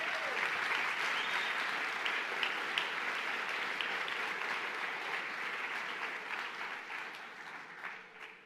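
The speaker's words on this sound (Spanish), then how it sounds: "¿Por qué no le damos esas palmas a Dios más fuerte?" Sustained applause from a church congregation during a Spanish-language sermon, dense steady clapping filling the room and fading slightly toward the end.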